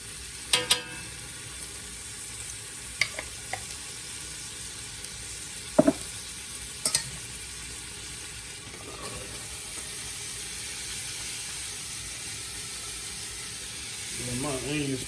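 Minced garlic sizzling in melted butter in a big pan, a soft steady hiss beneath a voice, with a few sharp utensil clicks and a swelling sizzle right at the end.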